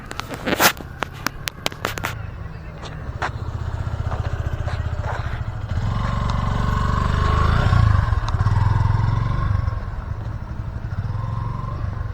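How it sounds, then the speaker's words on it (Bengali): A Yamaha FZS V2 motorcycle rides and brakes: sharp clicks and clatter open the clip, then a steady, close engine drone swells louder midway before settling back. "বাইকটা যখন আমি রান করে সে ব্রেকটা ধরলাম"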